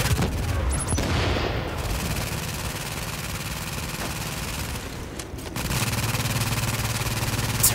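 Automated turrets fire in a video game as a steady, dense roar of continuous gunfire, loud and unbroken, shifting slightly in tone partway through.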